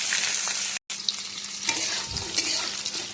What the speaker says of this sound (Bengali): পটলগুলো একটু ভেজে নেব হালকা করে।